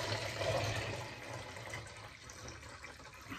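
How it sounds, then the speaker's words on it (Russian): Orchid fertilizer solution being poured into a measuring cup, a steady liquid trickle that fades over a few seconds, close and fairly quiet. "Наливаю его в мерный стакан,"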